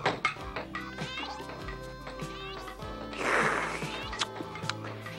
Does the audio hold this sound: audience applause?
no